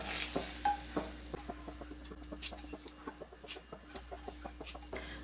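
Large stalks of curry leaves dry-roast in a hot kadai without oil while cooking a curry-leaf chicken curry, giving soft, faint, repeated clicks and light rustling scrapes at an uneven pace, with no talk.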